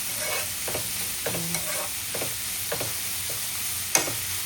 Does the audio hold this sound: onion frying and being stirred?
yes